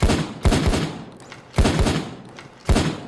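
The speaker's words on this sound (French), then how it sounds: "le street sweeper, toujours aussi efficace" A Street Sweeper shotgun fires in the PayDay 2 video game, with three loud bursts of rapid booming shots spaced about a second apart.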